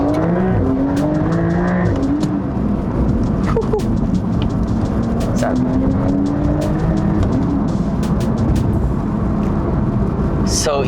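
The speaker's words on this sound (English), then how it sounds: "I'm just gonna let you guys hear the Akrapovič exhaust that we installed" A Techart-modified Porsche 992 911 with a fitted Akrapovič exhaust revs and accelerates hard. Its engine note rises and falls through several gears, with crackles and brief tire noise, while speech can be heard faintly underneath.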